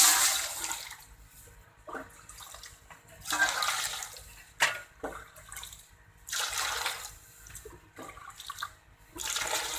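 Boiled water for making jalebi syrup is poured from a large vessel into two pots in several gushing splashes separated by brief quiet pauses.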